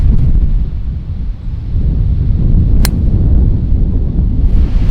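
Wind buffets a microphone on a golf course, a steady loud low roar of gusts that runs throughout with no voices.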